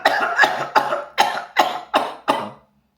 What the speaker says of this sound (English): let us breathe in deeply and cough out vigorously.